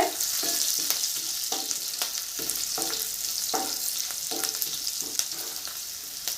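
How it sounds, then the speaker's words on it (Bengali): Chopped green chilli frying in oil in a pan for a pea masala dish, a soft continuous sizzle broken by scraping stirs at a fairly even pace, with no voices. "তিরিশ সেকেন্ড ভেজে নিব"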